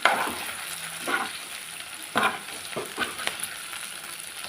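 Okra (lady's finger) fries in a pan for a varuval dish. Its steady, close sizzle is broken by several scraping, tossing strokes as it is stirred and turned, and no one talks.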